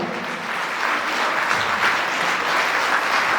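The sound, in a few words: audience applauding teacher at concert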